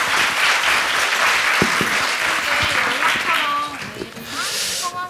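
An audience at a youth meeting with a Korean lawmaker breaks into another round of applause, continuous clapping from a room full of people that thins toward the end as a few voices come in.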